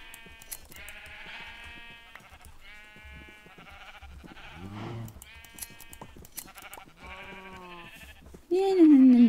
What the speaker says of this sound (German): Lässt du wohl meine Schafe in Ruhe da hinten